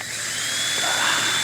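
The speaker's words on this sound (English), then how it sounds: "Drill a couple holes." A power drill whines steadily at close range, boring holes to fasten a basin while a sidewalk is being built, a short high-pitched burst.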